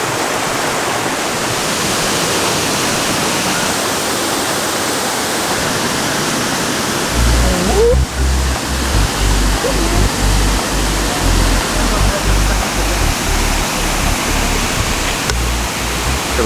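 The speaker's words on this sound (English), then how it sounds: "Okay, now you're hiking to a waterfall. I think we can finally hear it." A waterfall on a hiking trail gives off a loud, steady broadband roar. A deep low rumble joins the rush about halfway through and stays to the end.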